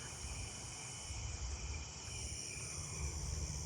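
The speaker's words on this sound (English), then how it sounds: "Carolina ground crickets" Carolina ground crickets and other night insects keep up a dense, continuous high buzzing trill outdoors after dark, steady and moderately faint, with no voices.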